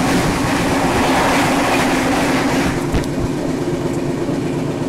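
Arunachal AC Express passenger train, hauled by a goods locomotive, running at about 80 km/h: a loud, steady rolling roar with faint rhythmic wheel clatter throughout and no voices.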